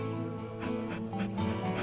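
A dog named Lassie at the vet gives short whimpers and soft yips in a repeating pattern, close and clear, with a faint voice beneath.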